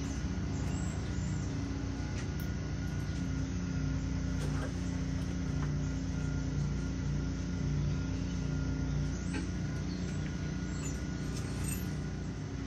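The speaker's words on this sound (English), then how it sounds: "So I think what you're hearing is generators." Generators running at a town festival, a continuous dense mechanical drone with steady low hum and faint scattered clicks, distant and unbroken throughout.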